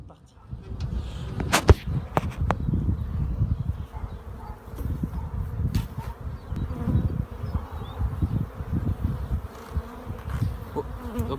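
Honeybees buzz steadily around a hive frame during an artificial swarm split, a close, low humming drone with occasional sharper taps and knocks against the wood, continuing throughout.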